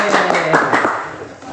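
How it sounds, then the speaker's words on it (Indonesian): A few quick hand claps ring out close by, mixed with people talking, in a short burst lasting under two seconds. "Tepuk tangan dulu dong."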